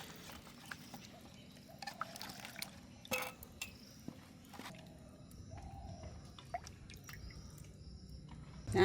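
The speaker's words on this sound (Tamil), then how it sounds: "நான் இப்போ இந்த வாழைக்காயை படிப்பாக கழுவி எடுக்க போகிறேன்" Raw plantains being washed in water in a village kitchen: soft splashes, drips and trickles with occasional knocks, faint and intermittent throughout.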